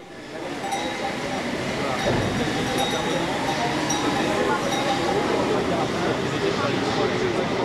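Paris metro train passing through Belleville station: a loud, steady rumble and rattling roar with metallic clinks fills the whole stretch, with faint voices blended into the platform noise.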